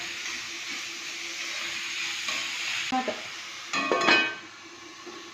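Onions frying in a pan for a chicken curry, giving a steady hiss and sizzle with a couple of louder clattering stirs near the end.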